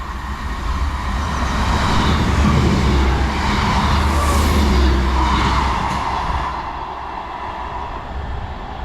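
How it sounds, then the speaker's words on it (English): An East Midlands Railway class 158 diesel train runs through a station, a steady rumbling roar that swells to a peak mid-pass and then fades, with a high whine rising briefly, no talk over it. "passing now is a East Midlands railway service from Liverpool Lime Street to Norwich"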